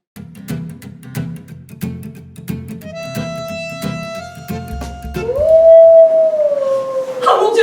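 A dog lets out a long, rising howl after rhythmic thumping background music, loud and close, ending in higher wavering notes.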